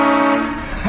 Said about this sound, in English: Filming a video of train horn pranks